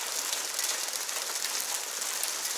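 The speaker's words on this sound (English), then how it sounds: "Pea-sized hail." Pea-sized hail falls during an Oklahoma thunderstorm, a dense, steady hiss of tiny impacts pattering on a surface, even and continuous throughout with no voices.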